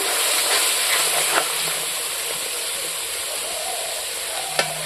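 Spice paste with salt is stir-fried in oil for rui fish kalia, a steady close sizzling hiss throughout with a couple of faint clicks from the spatula against the pan.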